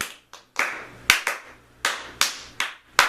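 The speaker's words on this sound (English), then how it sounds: "Got a little clap" A few sharp, isolated hand claps close to the microphone, about eight crisp slaps in an uneven rhythm with brief decays and quiet gaps between them.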